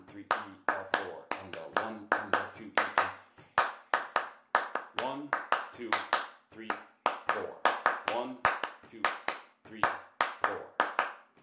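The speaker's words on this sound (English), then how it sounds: "one effective strategy is just to be able to clap this beat without your guitar." Rhythmic hand claps keeping a steady beat during a guitar lesson, sharp close claps in regular groups with a voice talking and counting between and over them.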